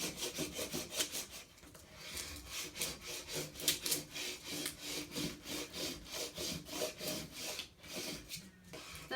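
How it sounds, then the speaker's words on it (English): Oramask 813 stencil vinyl is rubbed down onto transfer tape with rapid rhythmic back-and-forth scraping strokes, close and steady throughout, with no speech. "I go back over it and make sure it's all rubbed down."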